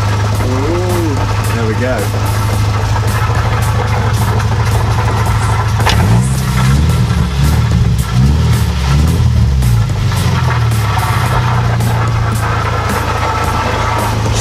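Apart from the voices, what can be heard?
Subaru drift car engine idling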